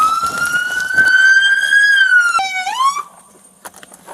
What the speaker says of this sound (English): You probably heard the siren.